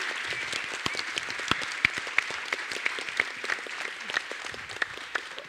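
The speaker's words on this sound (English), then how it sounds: "how about one more round of applause for our amazingly talented panelists" Audience applause for a panel of guests at a cider lecture event, a steady dense wash of many hands clapping at moderate distance for several seconds, with sharper individual claps popping out of the crowd.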